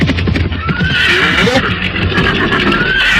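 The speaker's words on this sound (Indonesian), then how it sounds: "Kenapa melarikan kuda dengan kecepatan seperti itu?" Horses whinny loudly while being ridden at speed toward a royal city, close-up neighs layered over galloping clip-clop hoofbeats and brief voices.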